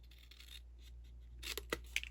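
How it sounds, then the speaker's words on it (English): Paper snips make a few crisp, close cuts into paper, starting with faint snipping and ending in three or four sharper clips, on a paper pumpkin craft project. "going to take our paper snips and go in about 3/4 inch right in the center"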